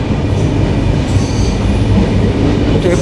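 Benapole Express passenger train in Bangladesh rolling along the rails, a steady loud rumble of wheels and carriage noise with faint squeal, heard from inside the coach with no talking.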